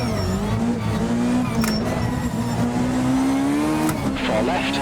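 A Peugeot 306 Maxi Kit Car engine in the Richard Burns Rally video game drones loudly and steadily at high revs through a rally stage, pitch rising gradually, with a co-driver's voice calling pace notes over it.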